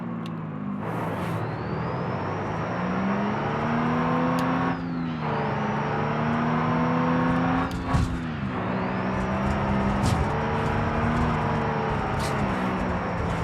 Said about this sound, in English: this motor wants to rev out